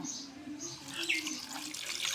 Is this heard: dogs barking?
no